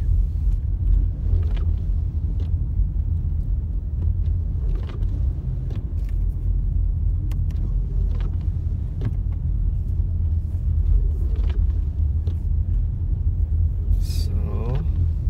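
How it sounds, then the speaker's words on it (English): A car drives along a snowy mountain road toward Erwin Lake in Big Bear during light snowfall, with a steady low engine and road rumble throughout, a few faint knocks and a brief higher whine near the end. "So we're going to be driving into some snow right now"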